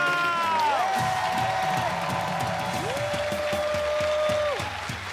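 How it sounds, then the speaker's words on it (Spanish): Live studio audience on a Colombian TV show clapping and cheering, with sliding musical tones and a rhythmic beat playing over the dense crowd noise, which eases off near the end. "Aplauso, aplauso"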